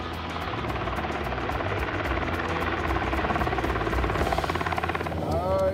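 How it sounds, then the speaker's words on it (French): Helicopters fly low over a cattle muster on an Australian station, a steady loud rotor drone with rhythmic blade chop running throughout, droning unbroken to the end. "les hélicos veillent"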